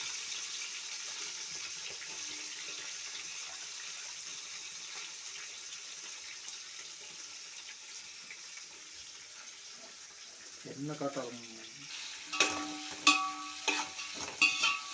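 Onions frying in a pan for chicken biryani make a faint, steady sizzle, then a few louder stirring scrapes and clinks near the end.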